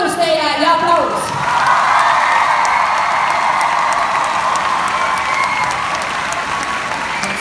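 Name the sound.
audience applause and cheering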